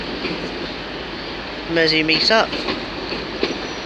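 A Class 319 electric train at Liverpool Lime Street station gives off a brief burst of wheel squeal and rail noise over low station ambience, while someone speaks close by.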